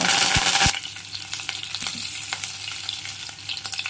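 Mustard seeds, cumin and green chillies crackle and sizzle in hot oil for mango-brinjal curry, opening with a loud burst of spattering that settles into a steady close frying hiss with scattered pops and no talk.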